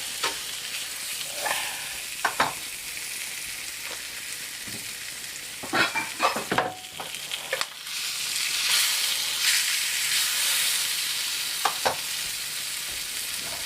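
Pork loin sears in a frying pan with a steady, loud sizzle, broken by a few sharp scrapes and clinks of a utensil; the hiss grows fuller in the second half, with no talking.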